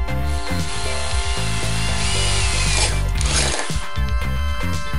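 A power drill runs loudly with surging, stuttering motor whine as it bites through the metal rim of a coffee can, speeding and slowing over several seconds.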